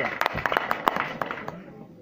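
Scattered, sparse claps from a small audience at a Hindi poetry gathering (kavi sammelan), a handful of sharp hand claps over a couple of seconds that thin out and fade.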